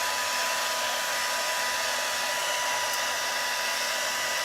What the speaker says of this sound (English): the blow dryer works